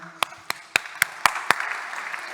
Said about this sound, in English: huge applause for the organizers